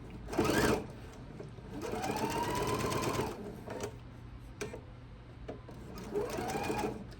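A sewing machine stitching a pinned quilt block seam in short close bursts: a brief run, a longer steady stretch, then a final burst, with pauses and small clicks between them.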